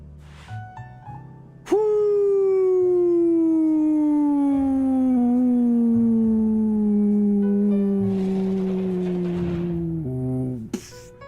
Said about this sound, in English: no, that is my alarm.